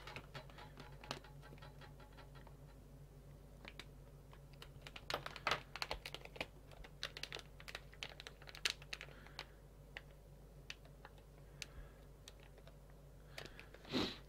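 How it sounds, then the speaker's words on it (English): Knife blade cutting and scraping through a cardboard package with a zip-tie closure, a kit part for an R2-D2 model build, heard as quiet, irregular clicks, taps and crinkles close by. "I'm going to open this with my knife"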